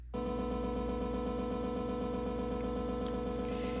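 A synth arpeggio runs in fast, even sixteenth notes, a steady buzzy repeating pattern played alone at constant volume.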